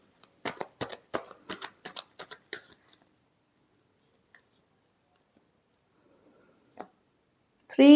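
Tarot cards being shuffled, with a quick run of close, crisp card flicks and taps in the first few seconds, then near silence with a single tap and a brief sound at the end.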